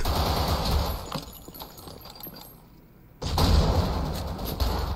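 AK rifle fire in a video game: rapid bursts fill the first second, thin out, drop to near quiet, then a loud, dense burst resumes and carries to the end.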